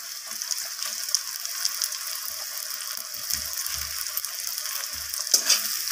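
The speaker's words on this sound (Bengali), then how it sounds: "ক্যাপসিকামটা দিয়ে আমি পেঁয়াজের সাথে নাড়াচাড়া করে নিলাম।" Capsicum frying with onions in a pan sizzles steadily and faintly, with brief scraping and stirring knocks from a utensil.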